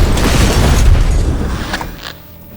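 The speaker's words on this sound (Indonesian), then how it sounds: "Dia lantas membantu Miles dengan meledakkan sebuah ruangan." A loud, deep explosion blows up a room in an action film, a sustained low rumbling boom with debris crackle that slowly fades over a couple of seconds.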